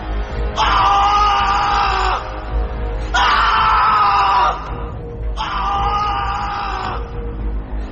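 A man screams in terror in a horror audio drama, with three long, loud, strained screams separated by short pauses.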